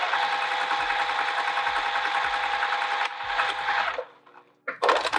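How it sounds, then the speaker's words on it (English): A sewing machine stitches tote bag strap pieces together in a steady, close, continuous whir with rhythmic low thumps, stopping briefly before restarting. "I'm going to put these pieces together and sew them together on the machine"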